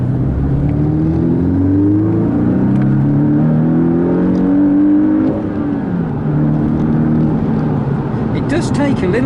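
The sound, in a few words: Porsche 718 Boxster engine revving while accelerating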